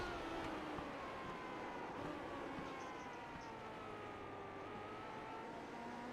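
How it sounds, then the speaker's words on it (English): A race car in an iRacing-style oval race at Iowa, its engine note falling in steps as it downshifts along the straightaway, a steady distant whine blending with other cars in the field. "Just started downshifting on a straightaway."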